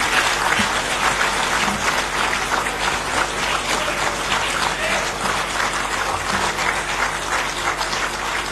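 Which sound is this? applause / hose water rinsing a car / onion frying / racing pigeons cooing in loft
applause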